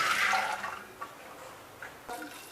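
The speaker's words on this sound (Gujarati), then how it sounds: "એમાં આપણે આ બધા ચણા પાણી સાથે જ એડ કરી દઈશું।" Soaked chickpeas and their soaking water are tipped into a pressure cooker, with a loud wet pour and splash at the start that fades into a few small drips and splashes.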